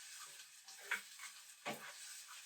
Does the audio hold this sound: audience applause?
no